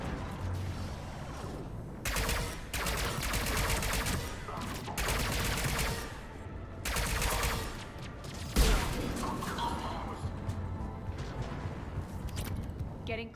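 Heavy cannon and weapons fire in Mass Effect Legendary Edition's Omega DLC, loud blasts in repeated bursts separated by quieter stretches, with talking voices mixed in.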